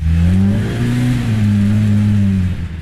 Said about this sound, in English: This high displacement, high revving engine allows for a unique sound. The engine roar is unmistakable.